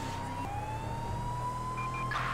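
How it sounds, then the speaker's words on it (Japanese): Police car siren in Grand Theft Auto V, a steady electronic wail sweeping slowly in pitch over a constant low engine rumble, loud and continuous, with a brief burst of noise near the end and no talk. "サイレン鳴らそう。"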